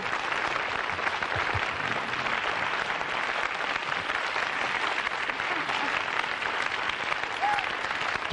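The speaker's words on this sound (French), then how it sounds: "Vous pouvez les applaudir" Steady applause from a television studio audience after a music segment on a 1988 French prime-time show, an even, continuous clatter of many hands at moderate volume throughout.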